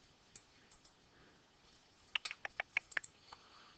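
A computer mouse clicks in a fast, irregular cluster of about seven sharp, close clicks after a few seconds of near silence, with a couple of faint clicks earlier.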